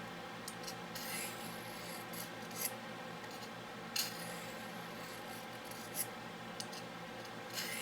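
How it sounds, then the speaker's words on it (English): A knife edge scraped along a small EDC sharpener, a soft, steady rasping at close range with a few sharper strokes at regular intervals. "you can definitely feel it doing some edge scraping"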